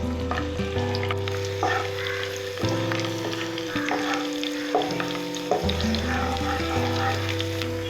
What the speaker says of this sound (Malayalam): വെളുത്തുള്ളി ഇഞ്ചിയും അപ്പം ഇതിനകത്തോട്ടിട്ട് കൊടുക്കാം.